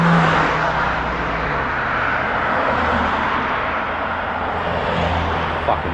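Cars drive past in a continuous, close, broad roar of traffic that stays fairly loud and even throughout, with no clear pauses between vehicles.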